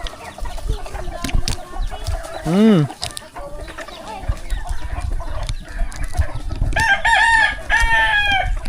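Farmyard chickens cluck and chatter while a rooster crows once loudly nearby, with more clucking and squawks following. A person talks at times in the background.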